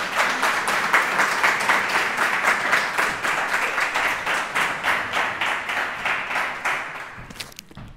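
An audience at a talk on conspiracies applauds warmly. The clapping is steady, rhythmic and fairly close, continuing for several seconds and then tapering off near the end.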